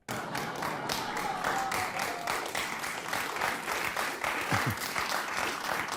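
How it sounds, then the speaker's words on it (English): Light, scattered applause from a crowd, a few hands clapping steadily for several seconds without much energy. "Very tepid laughter. Not a lot of clapping."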